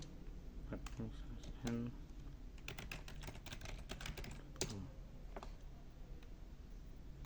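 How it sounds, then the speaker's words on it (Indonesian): Computer keyboard typing at a desk, a close run of quick clicking keystrokes in short bursts with pauses, fairly quiet, and a voice speaking briefly amid the keys. "Jadi kita ketikkan"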